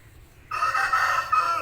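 An aseel rooster crows once at close range, a loud drawn-out call that starts abruptly and rises briefly near the end, with no voices.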